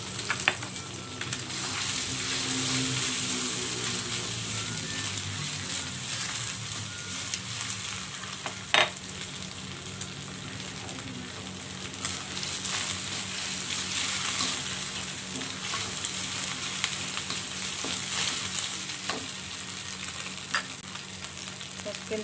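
Two eggs sizzle and crackle in hot oil while cooking seblak mie seafood, a loud, continuous frying hiss with occasional stirring clinks and no voices.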